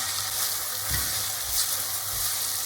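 Onion and tomato sauté in a hot pan for aloo gosht, a continuous close sizzle with a few soft thuds of stirring underneath, and no voices.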